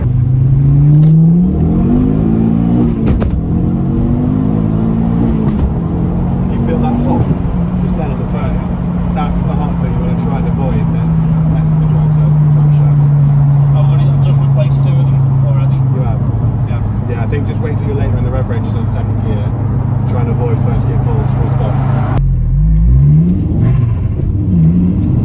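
A modified Ford Focus ST engine pulls through revs while driving, rising and falling tones blending into a sustained mid-range drone and a late burst of revving, heard from inside the car.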